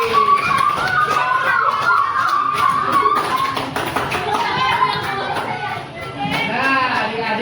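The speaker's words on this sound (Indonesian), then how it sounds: "Oke, boleh tepuk tangan dulu dong buat Kak Putri" A group of children clapping for Kak Putri at a children's session on food groups, a dense, sustained patter of hands close by with chatter and shuffling underneath.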